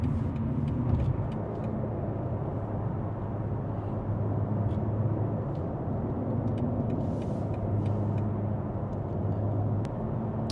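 A BMW G8X M3/M4 with an equal-length exhaust and open valves, driving in busy traffic at modest speed, giving a steady low engine rumble and road noise throughout, with no talking.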